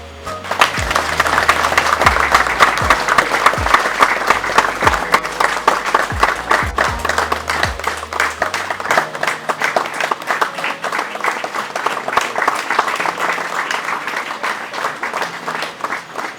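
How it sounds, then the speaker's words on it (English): A crowd claps steadily to welcome a deputy president and his entourage at an HIV awareness event, loud, sustained applause running the full length with dense, overlapping hand claps. "Let us welcome the Deputy President and his entourage by clapping hands."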